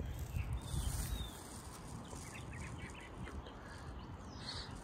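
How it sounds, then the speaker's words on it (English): Ducks and geese call faintly in the distance, scattered quacks and honks over a low rumbling outdoor background. "so are the geese loud or the ducks?"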